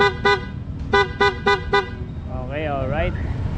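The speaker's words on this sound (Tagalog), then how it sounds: "pag sa loud horn andun yung passing" A PIAA loud horn fitted to a Honda Click V2/V3 scooter sounds in two quick toots, then three more short blasts, followed by a wavering warbling tone, loud and close.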